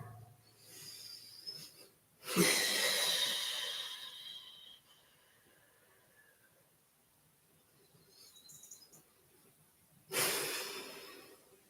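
Deep breathing during a full-body stretching and mobility flow: two long, loud, close breaths about eight seconds apart, each a rushing airy exhale that fades out slowly, with a faint, softer breath in the quiet gap between them.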